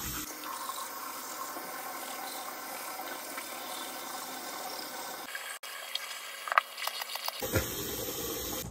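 Tap water runs steadily into a sink while retainers are washed, a continuous close hiss that shifts in tone as the flow changes, with clinks and splashes near the end and no talk.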